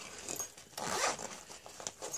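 A zipper slides open on a pocket of a Maxpedition EDC gear pouch, a close, crisp rasping pull in a few uneven strokes with no talk.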